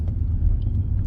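A car engine revs during a driving test, giving a steady, loud low rumble that holds throughout, close by and with no talk.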